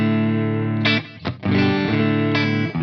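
Clean electric guitar on a Fender 75th Anniversary Ultra II Telecaster, front pickup, playing warm, sustained chords with a brief gap in the middle, full and resonant, heard alone at steady volume.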